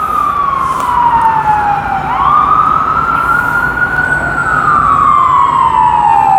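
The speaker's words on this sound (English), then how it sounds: "There's always sirens whenever I start recording." A loud emergency siren passes close outside, its wailing tone sweeping slowly down and up again over a steady road rumble from the vehicle.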